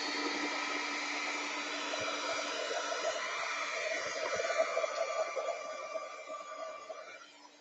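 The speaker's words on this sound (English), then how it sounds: "I'm going to get my heat tool and use that just a little bit here." A crafting heat tool blows continuously while being used on a handmade journal, a steady close whooshing hum that holds for several seconds and then tapers off at the end.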